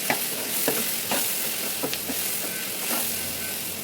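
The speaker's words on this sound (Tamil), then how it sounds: "சில்லி பவுடர் போட்டு தேவைக்கேற்ப உப்பு போட்டு நல்லா மிக்ஸ் பண்ணி விட்டுக்கணும்" A spice mixture of chilli powder, coriander powder and salt is stirred in a pot for a spicy dried fish curry with brinjal and drumstick, a steady scraping stir over a soft sizzle with a few sharper spoon knocks.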